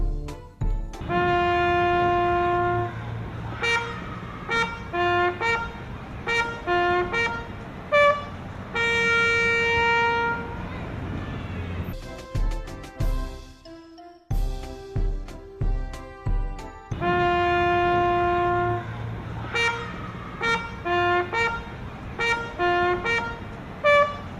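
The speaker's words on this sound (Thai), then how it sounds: "แตรเดี่ยว เป่าสัญญาณสองจบ" A solo bugle plays a parade signal twice at a Red Cross youth march-past, loud and close, with bright sustained notes and rapid tonguing in two repeated phrases separated by a brief pause.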